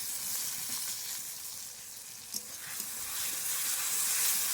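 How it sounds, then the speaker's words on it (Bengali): Chopped capsicum frying in a pan with ginger and garlic, a steady, close sizzle and hiss with occasional stirring scrapes, no voices. "এবার দিয়ে দেবো ক্যাপসিকাম কাটা।"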